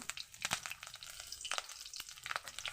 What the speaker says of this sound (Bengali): লঙ্কা কাঁচা লঙ্কা ভাজা হয়ে গেছে